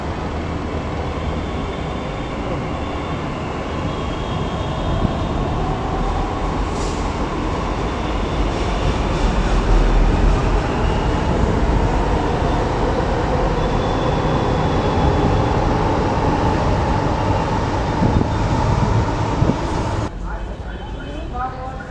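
Loud, continuous rumble of a Delhi Metro train running near Chattarpur, heard from inside, with steady wheel and motor noise that cuts off near the end.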